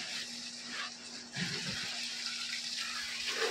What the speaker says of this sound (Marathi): बघा कशी अश्विनी पाणी लावते.